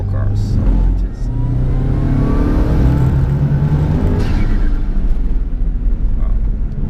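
A 1995 Subaru Impreza WRX STI engine revs under turbo boost, a loud, close, continuous growl rising and falling as the car drives, with talk over it.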